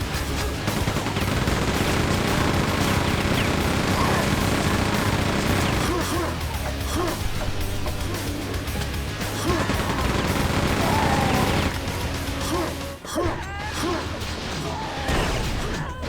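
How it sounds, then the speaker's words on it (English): Rapid chain gun fire in Quake 2 on the map The Edge, a dense continuous stream of shots sustained for most of the span, with gameplay noises and a brief dip near the end. "Have some fun with the chain gun as well."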